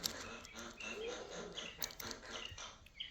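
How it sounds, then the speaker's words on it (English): Pet birds chirp and tweet faintly indoors, scattered short calls over a busy, noisy background in a workspace where an RC car is being regeared. "those are my birds laughing their ass off at me"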